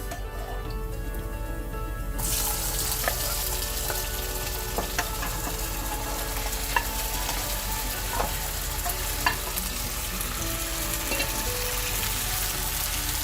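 Beef goes into a hot pan with onions and coconut pieces for Kerala beef chukka, and a sudden loud, dense sizzle takes over and holds steady, with scattered crackles and pops throughout and no voices.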